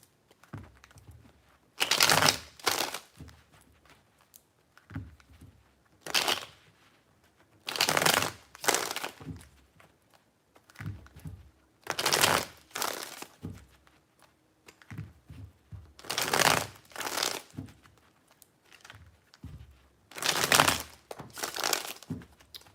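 Tarot cards are shuffled by hand in three separate rounds, each a crisp, close burst of riffling and flicking slaps with short quiet gaps between the bursts.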